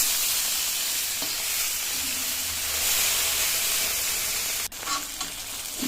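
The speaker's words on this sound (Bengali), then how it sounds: "লবণ হলুদ মেখে আমি ভেজে নিচ্ছি।" Fish rubbed with salt and turmeric fries in hot oil, a dense continuous sizzle and hiss close by, briefly interrupted by a clink near the end, with no talking.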